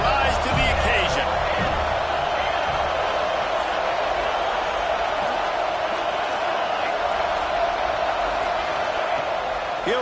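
A football stadium crowd roars steadily on a fourth down, a dense, constant wall of cheering and noise that holds throughout.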